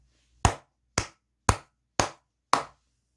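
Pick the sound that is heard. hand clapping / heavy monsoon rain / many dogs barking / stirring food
hand clapping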